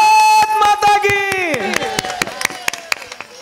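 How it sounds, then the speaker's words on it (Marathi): A crowd at a patriotic gathering claps in a quick rhythmic series of sharp hand claps, starting under loud voices and then standing out more clearly as the talk fades. "हात वरी करा टाळ्या वाजवा"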